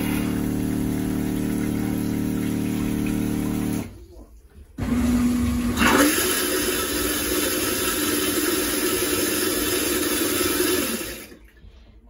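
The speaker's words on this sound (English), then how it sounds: "All you do is you take your foot and you tap on the button once. Fills it with water, do your thing," An electric marine toilet flushing aboard a boat: a steady mechanical whir from the pump and macerator with rushing water, a short pause, then a second longer run of churning flush that stops abruptly.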